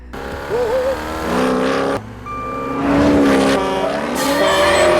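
A Mustang maneuvering along a road, tires squealing loudly in long pitched screeches over a roaring engine, with several bursts of skidding close by and no talk.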